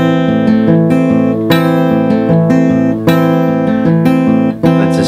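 Acoustic guitar fingerpicked in a beginner bass-and-pinch pattern, steady repeating plucked notes with ringing chords, close and clear, no talking.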